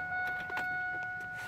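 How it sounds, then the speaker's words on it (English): A car's electric power window, freshly fitted with a new switch, runs down and then back up in a steady motor whir, close and alone with no talk. "Turn the car on, window goes down, and window goes up."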